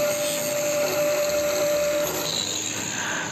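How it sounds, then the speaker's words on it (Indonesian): A hand grinder cutting a PVC ceiling panel at a 45-degree angle gives a loud, continuous high whine and grinding rasp that holds steady for the whole clip, close by and without voices. "kita potong miring menggunakan gerinda tangan juga"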